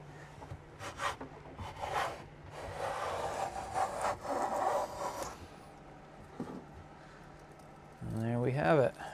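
Hand plane pulling shavings off a wooden board during spring boat tool work, giving repeated rasping strokes across the wood with a louder final pass, under intermittent talk.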